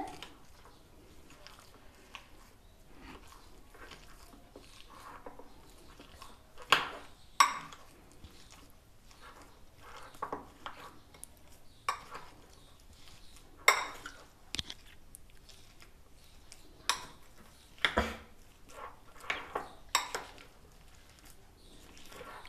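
Fruit shrikhand being stirred in a bowl with a spoon: soft, irregular clinks and scrapes, quiet and close, with occasional sharper taps against the bowl.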